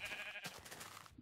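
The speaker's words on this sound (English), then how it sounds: "So many sheep." A single sheep bleats in a video game with a flock nearby, a short wavering nasal call, fairly faint and alone with no talking.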